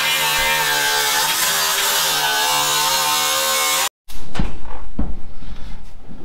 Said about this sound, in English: So that's super thin, but yes, it is. It's gonna weld.